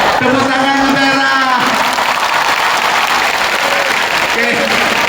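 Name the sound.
audience applause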